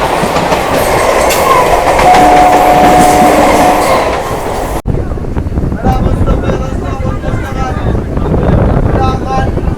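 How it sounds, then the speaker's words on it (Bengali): A train leaving Baruipara station on the Bardhaman–Howrah chord line rolls loudly along the tracks, rumbling and clattering close by, with rhythmic clicks and a brief squeal as it pulls away. "আমাদের ট্রেন এখন বারুইপাড়া স্টেশন ছেড়ে যাচ্ছে"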